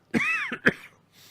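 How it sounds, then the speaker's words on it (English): A single short cough or throat clear, close and abrupt, with a rough rasp followed by a quick second burst. "I'm starting to cough."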